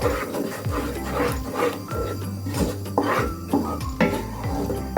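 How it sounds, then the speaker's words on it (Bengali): Palak paneer being stirred in a pan, a loud close run of scraping and clinking spoon strokes against metal in an uneven rhythm. "এইভাবে 1 মিনিটের মতো একটু নাড়াচাড়া করে নেব।"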